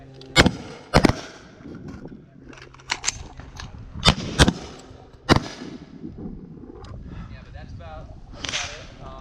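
Rifle and pistol gunfire rings out at an outdoor shooting range: sharp, loud single cracks in a loose sequence, some in quick pairs, with echoing tails and faint background murmur between shots.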